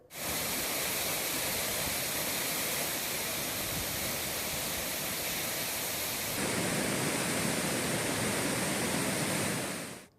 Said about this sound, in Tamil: இன்று காலை குற்றால அருவியில் வெள்ளப்பெருக்கு ஏற்பட்டது